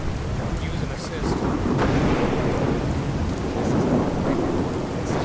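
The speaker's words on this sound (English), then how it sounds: "It's a proper storm here." A thunderstorm in the game Life in the Ruins, with steady heavy rain and deep rolling thunder swelling and fading in low rumbles, loud and continuous, no clear speech.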